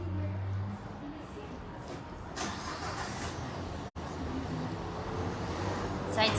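Steady broadband road traffic rumble from a nearby street, with passing vehicles swelling and fading; a brief dropout midway.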